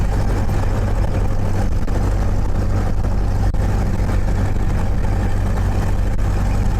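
A 1929 Ford Model A drives along, heard from inside the cabin as a steady, loud, low engine drone with road rumble throughout and no talking.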